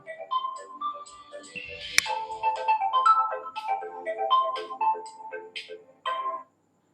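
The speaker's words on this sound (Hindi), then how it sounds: "वो फोन ऑफ नहीं किए थे तो बीच में कॉल आ गया" Mobile phone ringtone from an incoming call, a bright repeating electronic melody that plays steadily for about six seconds, fairly loud and close, with no talking over it.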